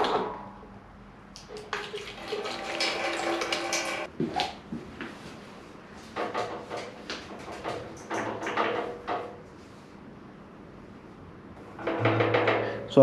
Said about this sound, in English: I'm going to put a little bit of water in here. Just pour it out, see if the jerry can is clean.